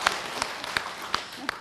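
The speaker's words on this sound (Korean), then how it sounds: "박수로 맞으세요" An audience at a Buddhist monk's talk applauds, faint and somewhat distant, with sharp claps landing at a fairly regular beat and a soft wash of sound beneath them.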